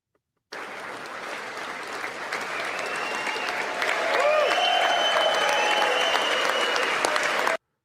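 Sustained audience applause from a played video of a staged show with a courtroom-like set, dense clapping that swells slightly midway and holds steady, with faint tonal music running underneath before it cuts off abruptly.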